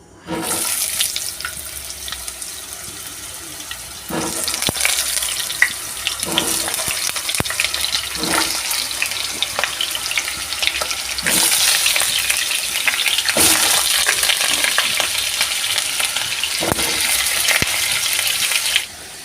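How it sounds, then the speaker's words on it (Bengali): Potatoes frying in hot mustard oil crackle loudly and close, with bright, bursting sizzles that swell and fade in waves across the whole stretch. "তেলটা আমার গরম হয়ে গেছে আমি আলুগুলো তেলের মধ্যে ছেড়ে দেবো"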